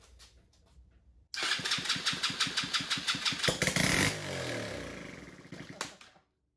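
A 125cc Chinese ATV engine, primed with starter fluid, cranks in rapid starter pulses, then catches and fires briefly into an uneven running burble before dying out. The sound is close, with no talk.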